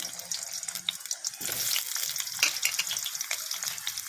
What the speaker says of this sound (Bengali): কচু আর আলুটাকে আমি ভেজে নেব